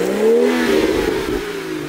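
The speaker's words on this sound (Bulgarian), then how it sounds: "BMW 340 с двигател B58. Да го чуем?" A BMW 340 with a B58 engine revving close by, a strong rising and falling engine note that swells early and then eases off, with no talking.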